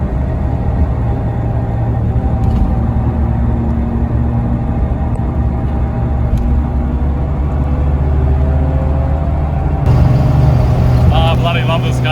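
A Toyota AE86 drives along with a steady low engine drone and road rumble heard from inside the cabin, loud and continuous, with a brief shift in tone near the end.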